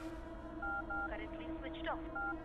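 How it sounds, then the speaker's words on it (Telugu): A phone number is dialed in a Telugu comedy film scene: a few short beeping keypad tones sound while people talk over them. "మనోజ్కు ఫోన్ లగా"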